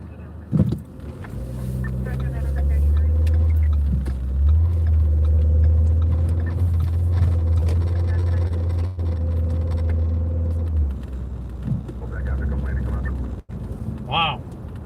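Heavy road traffic with many tractor trailers rolls past in a steady low rumble that swells and fades, loud and close, with a brief horn-like tone near the end and a voice heard briefly at the start.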